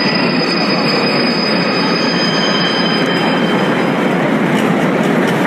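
Interior of a high-speed train heading toward Nuremberg, a loud steady rumbling roar of travel with faint high squeals and clicks from the wheels, unbroken throughout.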